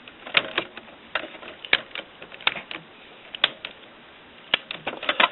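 Ink cartridges being pressed into the printhead of a Canon MG-series printer, giving a series of sharp, close plastic clicks and small knocks spaced irregularly and heard with no talk.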